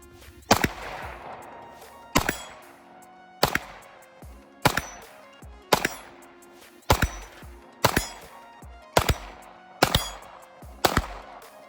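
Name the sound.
Walther PDP Compact 9mm pistol gunshots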